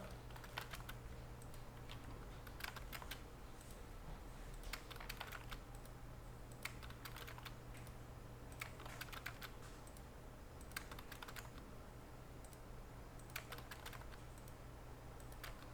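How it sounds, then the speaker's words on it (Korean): Keys clicking on a computer keyboard in scattered bursts, with quick runs and pauses over a steady low hum, nearby and fairly soft. "저는 지금 키보드로 쓰고 있습니다."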